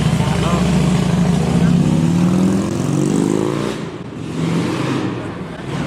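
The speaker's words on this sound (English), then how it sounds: "embrace the madness of Paris. The loud sirens, the cars, the motorbikes." Busy Paris street traffic with cars and motorbikes, a loud close rumble of engines revving and passing that swells and fades, with voices talking over it.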